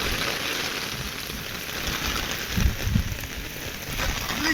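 Heavy unseasonal rain pours steadily onto a grain purchasing centre, a dense even hiss of drops with a few low thumps in the middle, no voices.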